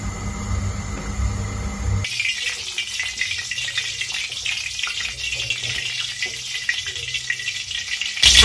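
Cooking oil heats in a karai on a stove, a steady close hiss and sizzle with a louder, harsher start before it settles into a softer continuous fry, with no voices.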